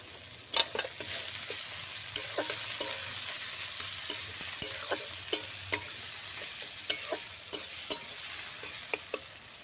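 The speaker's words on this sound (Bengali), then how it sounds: "পেঁয়াজ আর টমেটোটা ভাজা হয়ে গেছে" Onion and tomato frying together in a pan give a continuous close sizzle, broken by regular scraping taps of a stirring spoon, with no speech.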